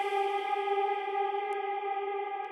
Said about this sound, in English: I like it when it sounds kind of like a big bloom of reverb around the sound